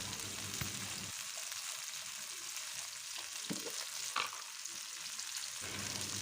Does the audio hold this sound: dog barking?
no